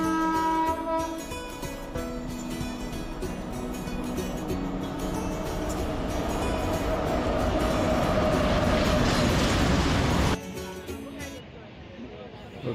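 A packed passenger train rumbles along at speed, a continuous loud roar with voices and crowd chatter mixed into the din, swelling before the noise cuts off abruptly near the end.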